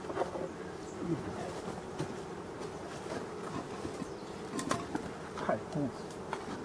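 Honey bees from abandoned forest beehives make a steady, continuous buzzing hum, with a few brief louder swells as individual bees pass close by.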